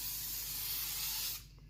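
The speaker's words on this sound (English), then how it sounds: "you spray evenly, make even coats on top of the film" Hydrodip activator sprayed evenly from an aerosol can onto film floating on water, a steady close hiss lasting over a second before cutting off abruptly.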